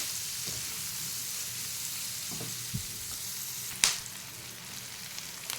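Chopped onions fry in hot oil in a pan for a Gujarati kankoda (spiny gourd) besan sabzi, giving a steady, close sizzle with a few soft clinks and one sharp stir near the end, and no voices.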